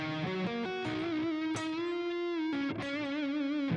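Heavily distorted electric guitar playing a bending, sliding melodic line, loud and buzzy, with a couple of sharp pick scrapes between phrases.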